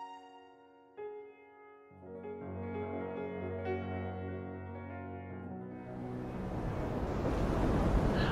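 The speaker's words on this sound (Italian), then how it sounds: "una bufera con onde altissime, flutti incredibili ed un vento che spazzava il mare" Wind and crashing surf build steadily over a sustained musical drone, swelling into a loud, rushing roar of stormy sea by the end.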